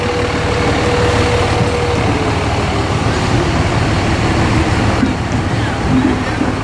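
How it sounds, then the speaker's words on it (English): A forklift works at a street course being built, its engine a steady low diesel rumble with a faint tonal whine, against road and truck noise while people talk nearby. "Oh, that's a forklift."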